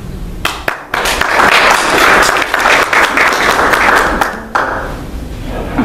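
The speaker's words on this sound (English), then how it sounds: "insert thunderous audience applause here." Loud, dense crowd applause from a genealogical society audience sounds close, with several sharp thumps at the start before the clapping rises, holds and then cuts off.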